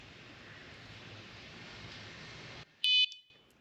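A Guardian trailer alarm's remote sounds a short, sharp electronic beep, loud and close, after a few seconds of quiet background hiss.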